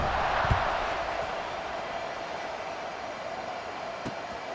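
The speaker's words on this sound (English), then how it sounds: "this crowd is buzzing after that last score" A football stadium crowd buzzing after a score at an LSU versus New Mexico State game, a steady, distant roar of many voices with a couple of faint thumps.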